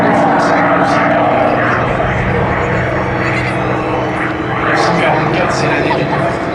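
A propeller airplane drones overhead at the Air Legend 2024 airshow, a loud steady engine roar under continuous talk from a commentator.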